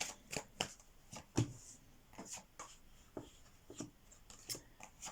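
Tarot cards are shuffled by hand at close range, a run of crisp riffling slaps and soft papery rubs in irregular bursts with no voices.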